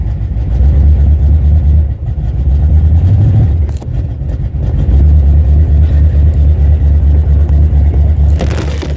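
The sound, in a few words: Chevrolet Nova car engine driving out of snow pit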